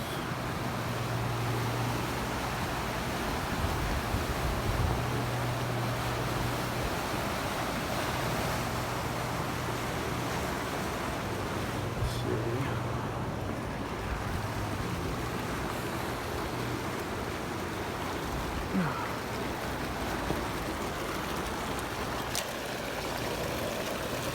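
Flowing water along a small river walk area, a steady continuous wash and rush heard close up, with a constant low hum running underneath and no talking.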